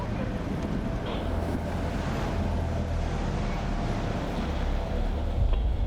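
Strong storm wind at sea, gusting around 42 to 54 knots aboard a tug securing a container ship, roars as a steady, loud, dense rush with buffeting on the microphone, continuous throughout.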